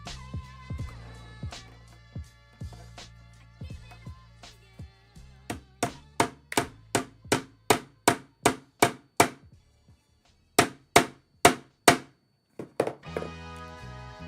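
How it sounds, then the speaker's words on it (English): Hammer blows on a small cabinet build strike in a steady run of sharp, loud thunks, roughly a dozen evenly spaced hits with a short pause before a few more, close and dry. "Go back in here and mute the hammering parts."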